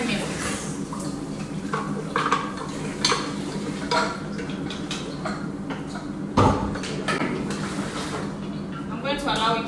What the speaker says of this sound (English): I'm going to allow it to fry for 10 minutes.